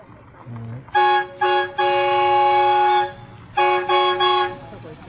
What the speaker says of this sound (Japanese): トロッコ列車がやってきました。